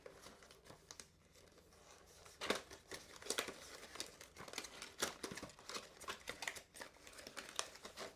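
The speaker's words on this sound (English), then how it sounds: "So let's open the box and take a look." Quiet crinkling and tearing of packaging as the box of a Sony Walkman NW-WS623 earbud MP3 player is opened, with soft rustles and a few sharper rips.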